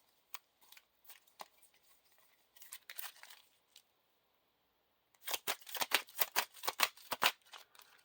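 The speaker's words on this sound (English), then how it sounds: "Shuffle the encounter deck." Deck of Lord of the Rings living card game cards being shuffled on a table, scattered soft riffles at first, then a rapid burst of sharp, crisp card snaps close by.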